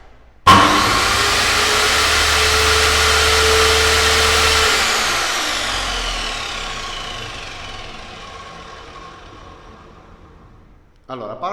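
A small Lidl Parkside PMTS 210 A1 bench circular saw switches on abruptly with a loud whine and no soft start, runs steadily at high pitch, then winds down gradually as it spins to a stop.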